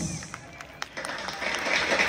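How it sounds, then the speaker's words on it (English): An audience at a kindergarten mass dance competition at The Philippine School Dubai applauds the dance group, with clapping building into a steady dense wash after a few scattered claps, and a voice faintly over the start. "let us give them a big round of applause"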